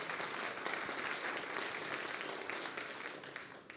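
A conference audience breaks into dense, sustained applause after a lightning talk on browser developer tools, many hands clapping at a steady level before tapering slightly at the end.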